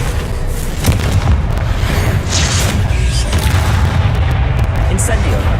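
Confringo explosion spell cast in Hogwarts Legacy, a booming blast with a sharp crack near the start, set against dense, loud game combat rumble and scattered bursts, with a voice talking over it.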